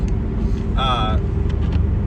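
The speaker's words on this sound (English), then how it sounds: "Maybe it's just because of the sound of the car, it makes it hard to hear" Low, steady rumble of a car engine heard from inside the vehicle, continuous and fairly loud, with a brief higher tonal whine rising over it partway through.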